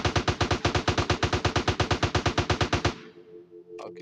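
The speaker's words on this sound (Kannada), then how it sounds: "ಇಲ್ಲೇ ಹೋಗಿ ಗನ್ ಎತ್ಕೊಂಡು ಶೂಟ್ ಮಾಡ್ಬಿಡೋಣ ಇಲ್ಲಿ" Rapid automatic gunfire from a gun in GTA San Andreas rattles out in an even, steady string of loud shots for about three seconds, then cuts off abruptly, leaving a quieter game background.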